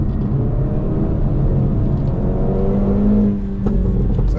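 A 2025 Hyundai i30 N on a race track, its engine droning steadily and rising in pitch as it accelerates hard, with a brief dip and lift near the end, close and loud without talk.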